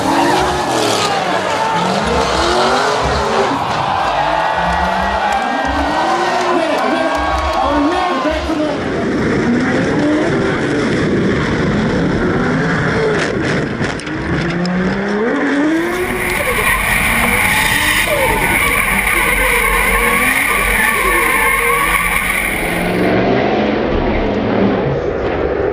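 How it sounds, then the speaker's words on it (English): Tectaloy S14 drift car at a D1NZ drifting round in Tauranga, engine roaring and tyres squealing loudly as it skids into turn 2 and strikes the wall on entry, with continuous motorsport noise and voices heard throughout. "Gaz Wider hitting the wall hard on entry and spearing the Tectaloy S14 into turn 2."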